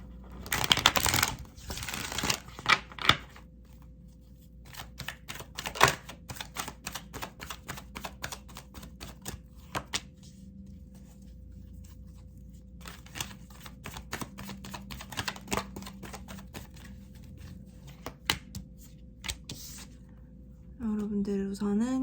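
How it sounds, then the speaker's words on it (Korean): Oracle cards being shuffled and drawn in a tarot reading, with a dense rustling burst at the start followed by scattered crisp card snaps and flicks at close range, moderately quiet, and a voice speaking briefly near the end. "그러면 오라클 카드 한번 뽑아볼게요."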